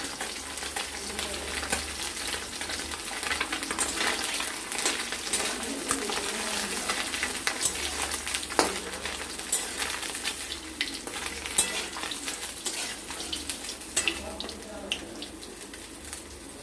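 Small fish fry in oil in a kadai until reddish, a steady, dense sizzle running throughout with occasional clinks and scrapes of turning, close and fairly loud.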